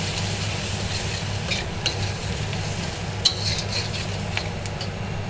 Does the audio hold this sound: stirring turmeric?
yes